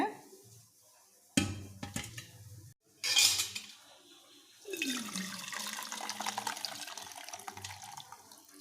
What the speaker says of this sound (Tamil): அந்த தண்ணியை வந்து நம்ம வடிகட்டி எடுத்துப்போங்க